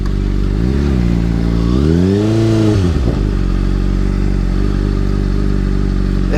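A 2013 Honda CBR600RR motorcycle accelerating hard, a loud close engine whose pitch climbs, dips through a shift and climbs again, then holds a steady high drone.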